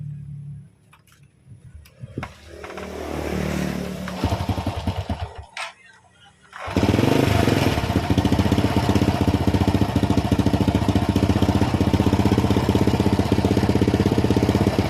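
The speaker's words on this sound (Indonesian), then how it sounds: "Terjadi berebet-berebet. Kemudian saat saya lepas tuas gasnya, dia langsung mati." A carburetted motorcycle engine runs unevenly and sputters, cuts out into brief silence when the throttle is released, then roars back loudly and runs steadily up close.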